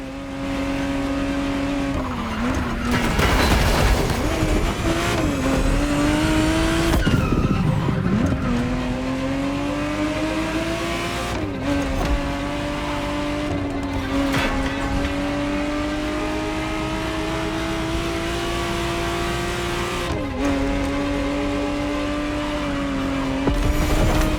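A 1991 Ferrari in The Crew Motorfest, its engine revving and shifting up and down through gears with repeated tire squeals and skids, loud and close, running continuously.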